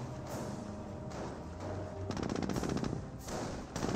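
Gunfire on Panzer Grenadiers in the World War II strategy game Company of Heroes, with rapid bursts of machine-gun fire and scattered shots, densest midway, layered over a steady battle background.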